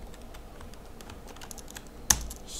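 Steady, fairly quiet typing on a computer keyboard while coding a music player app in Android Studio, with rapid light key clicks and one louder keystroke near the end.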